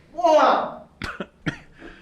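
A voiced throaty sound followed by a few sharp, close coughs in quick succession.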